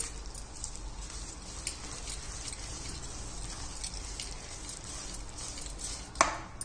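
Matar bonda batter is stirred in a bowl, a soft continuous wet swishing with faint clinks of a utensil against the bowl and one sharper tap near the end.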